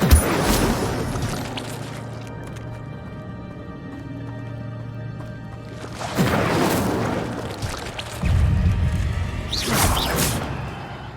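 Incendio fire spell bursts in Hogwarts Legacy, loud whooshing blasts arriving in three separate surges over a low rumbling background, with no talking.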